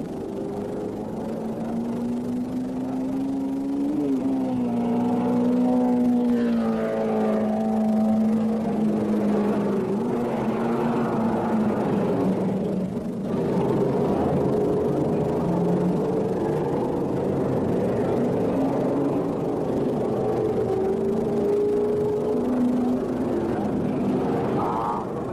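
1972 Interserie race cars, a BRM and a McLaren, at Keimola circuit, with a steady engine drone under continuous commentary and a wavering tone that rises and falls.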